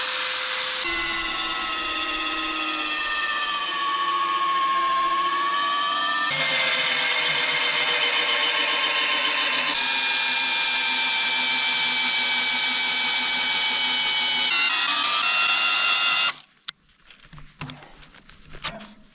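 A power drill spins freely at high speed for a long stretch to cool its motor, its whir steady with pitch shifting slightly, before cutting off into quiet clatter.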